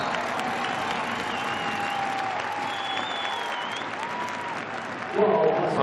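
Applause and crowd noise fill an indoor hockey arena during a World Cup quarter-final in Leipzig, steady and fairly loud for several seconds before a louder swell near the end, with a commentator talking over it.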